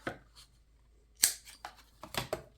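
Scissors snip through paper while a homemade scrappy notebook is trimmed, with a few sharp close cuts and a brief rustle between them, and no one speaking.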